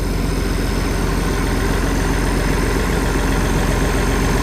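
Farmall 1086 tractor engine idling steadily, a loud, close, low rhythmic diesel rumble with no pauses.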